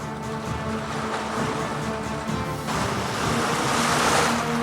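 Rough sea breaking against a rocky coast, a continuous broad roar of surf and wind that swells louder partway through, with no voices.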